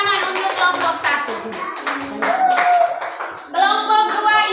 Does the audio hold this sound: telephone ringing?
no